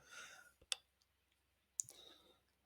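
Two sharp mouse clicks a little over a second apart, the first a quick double tap, during a coding session in a quiet room with faint background hum.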